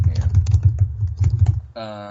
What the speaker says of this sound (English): I know that's me typing. I type like a psychopath.